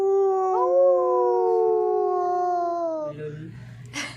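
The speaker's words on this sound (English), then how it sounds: "What's the sound of wolf?" A long, rising and sliding wolf howl is held for about three seconds, harmonic and clear, then drops into a short low growl and a brief breathy burst at the end.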